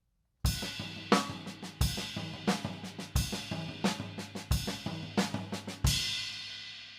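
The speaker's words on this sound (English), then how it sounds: "first note on the ride cymbal, and then everything else with the right hand will be on the floor tom" A drum groove with a washy ride cymbal and booming floor tom hits in a steady repeating pattern, fairly close and loud, no voices.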